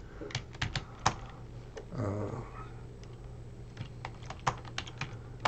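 Someone types on a computer keyboard while filling in an online registration form: irregular, close key clicks in small bursts, with a brief low murmur partway through.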